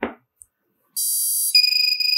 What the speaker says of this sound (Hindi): आप देख सकते हो बजर कितना बज रहा है